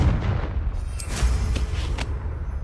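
In the Hogwarts Legacy video game, a Confringo fire curse is cast, and fiery blasts crackle and burst over a rumbling low background, with a few sharp flares in quick succession.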